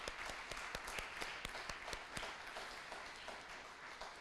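Quiet clapping from a meeting audience, sparse distinct claps over a soft murmur of applause, fairly faint and distant.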